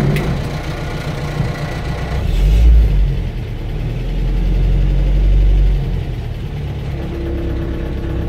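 A Land Rover Series IIa engine idles steadily up close with a low, lumpy rumble, swelling briefly twice as it runs, with no talk over it.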